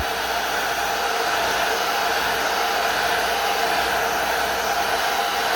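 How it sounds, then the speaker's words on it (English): Blow dryer running close over an Xbox Series X circuit board, a steady loud fan roar with a constant whine, unchanging throughout with no talk. "close enough where should get it nice and hot, since it is just a blow dryer"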